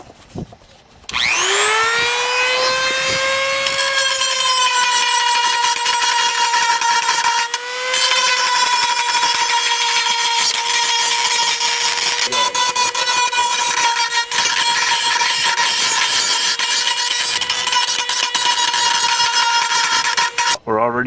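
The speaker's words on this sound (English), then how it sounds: "Now to start grinding." Power grinder working on body damage of a beaten Pontiac, a loud sustained high whine that spins up and holds steady with small dips as it bites, heard alone and close.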